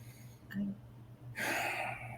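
A deep breath drawn in during a guided meditation, a soft airy inhale swelling and lasting just under a second near the end, with a faint earlier catch of breath in a quiet room.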